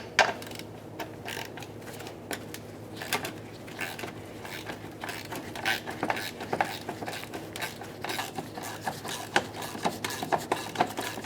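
Two 10mm mounting nuts being worked loose from a fog lamp on a 2000-2006 Chevy Tahoe: close, irregular metallic clicks and ratcheting taps against a low hum, moderately quiet, with no talking.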